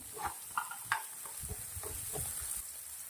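Vegetables with ginger, chilli, garlic and tomato being stirred in a hot pan, with soft scraping strokes and light sizzling that come close and fairly quiet, in a steady uneven rhythm with no talking.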